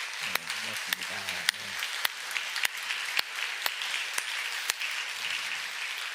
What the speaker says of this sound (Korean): 우리 한번 일어나시면 우리 박수로 환영하겠습니다